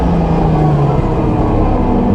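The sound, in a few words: race car engine misfiring while accelerating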